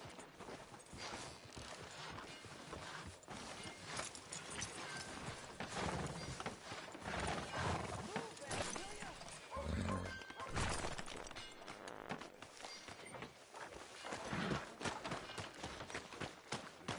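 Horse hooves clip-clopping in the video game Red Dead Redemption 2, a steady irregular trot of hoofbeats over a busy town soundscape with occasional clatter, no talking.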